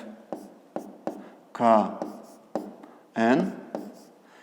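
Pen strokes on paper in a fifth-grade maths lesson on angles make short, regular scratches and taps, close and clear, with two brief voiced murmurs in between.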